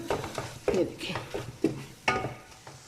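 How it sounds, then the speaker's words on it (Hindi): A spoon stirs and scrapes chicken keema frying in a pan, producing a series of close, uneven clinks and scrapes over a low sizzle, with a voice talking now and then. "भूनने के टाइम आपने ऐसे ऐसे चम्मच के साथ थोड़ा सा करना है ताकि अच्छी तरह से ये और ज़्यादा सही तरह से हो जाए"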